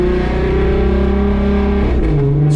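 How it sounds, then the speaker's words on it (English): Deep, steady rumble of a straight-piped VR engine swapped into a car, loud and close, holding a sustained drone with a slight pitch shift near the end. "Straight pipe is still very loud. You can hear it, but now you hear that VR rumble."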